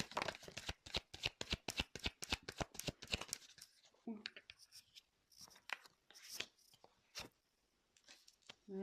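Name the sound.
shuffling tarot cards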